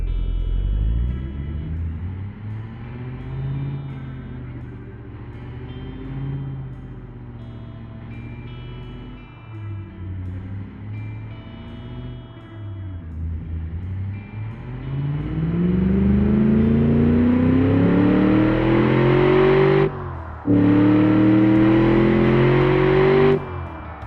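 A stock SUV engine making 335 horsepower and 405 pound-feet of torque revs on a dyno, a loud droning roar that sinks, then climbs steadily in pitch, breaking off briefly before surging on again.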